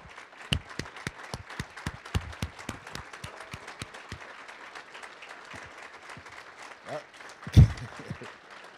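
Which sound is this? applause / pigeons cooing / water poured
applause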